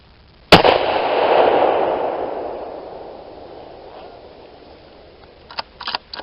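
A single sharp rifle shot from a Ruger American chambered in 6.5 Creedmoor, fired while zeroing, rings out loud and close. A long rolling echo fades over several seconds, then a few faint clicks follow.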